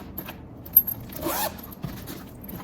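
The zipper on a pocket of a Louis Vuitton Horizon 50 suitcase is pulled in one short, close rasping stroke, with a few soft handling clicks before and after.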